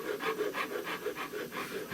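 Steady rhythmic rasping as wood is smoothed by hand near the trigger guard of an old Essex double-barrel shotgun, about six to seven even back-and-forth strokes, close and alone.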